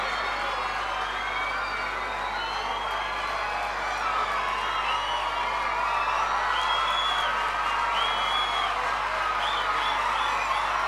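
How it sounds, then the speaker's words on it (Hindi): An audience at an honour ceremony applauds continuously in dense, steady clapping, with occasional faint whoops mixed into the crowd noise. "ताली बजाते रहो सब जोरदार"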